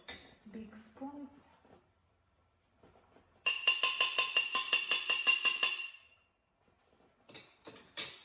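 A spoon scrapes and clinks rhythmically against a jar or bowl in a quick series of bright taps, scooping chocolate mass into peanut butter, with a voice speaking briefly before and after.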